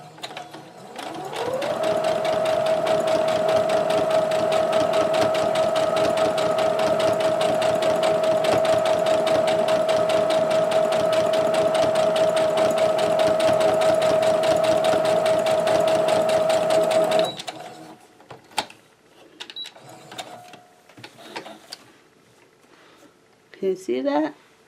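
A sewing machine stitches rag quilt blocks together in a continuous, loud, steady whir for about fifteen seconds, then stops abruptly, leaving scattered handling clicks and a few faint sounds.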